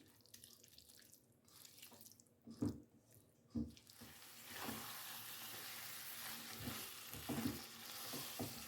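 Methi paneer bhurji sizzles in a pan while being stirred, a steady broadband frying hiss with several distinct scraping stir strokes and clunks of the spoon, close and alone without talk.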